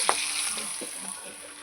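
A rohu fish head fries in hot oil in a pan, a quiet steady sizzle with a few soft clinks and stirring sounds over it.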